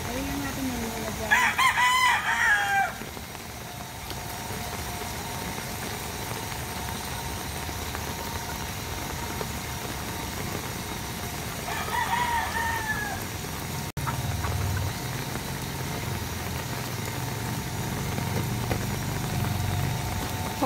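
A golden sweater rooster, a breeding gamefowl, crows twice, about ten seconds apart, over a steady background hiss; softer hen clucks are scattered through the clip, which was recorded in rain.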